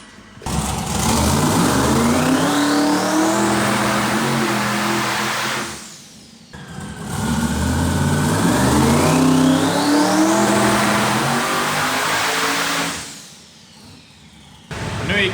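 A methanol-fuelled Chevrolet Camaro engine revs hard on a dyno in two long, loud pulls, each rising in pitch before dropping off to a brief idle between runs.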